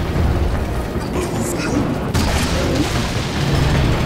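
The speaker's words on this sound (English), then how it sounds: "start firing away at him with the cannon" Dense, continuous booming blasts of cannon fire in Serious Sam 2 under a constant roar, with a sharp new impact about halfway through.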